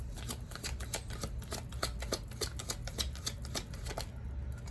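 A deck of cards is shuffled for a card reading in a run of quick riffling flutters and soft slaps, close and fairly quiet, with no voice.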